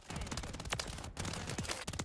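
A WSP-9 firing in Call of Duty MW3, quick repeated shots in a steady automatic rhythm, loud and close, with no voice over them.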